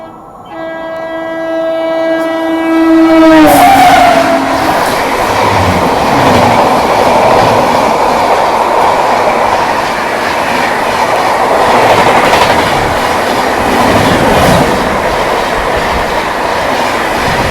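Rajdhani Express, a long-distance Indian passenger train, sounds a loud sustained horn as it closes in, then roars past at around 130 km/h with heavy continuous rumble and rhythmic wheel clatter lasting to the end.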